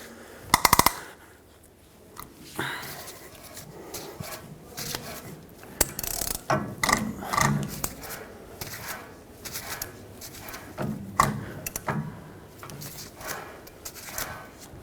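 A ratchet tightens the rear wheel hub nut on a 2011-2016 Ford F-350, sounding in bursts of close, crisp pawl clicks separated by short pauses, with occasional metallic clanks of tools.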